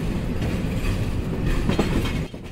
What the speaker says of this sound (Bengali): ট্রেন ছেড়ে গেল দুপুর 12টা বাজে শ্রীনগর রেলওয়ে স্টেশন থেকে